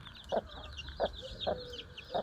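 A hen clucks four times at close range in short, low, evenly spaced bursts, with faint chick peeping in the background.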